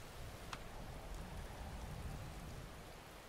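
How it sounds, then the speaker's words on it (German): Steady, soft rain hissing in a video game, an even wash of drops on a surface with a single faint tick early on and no voices. "Es regnet, es regnet, es regnet."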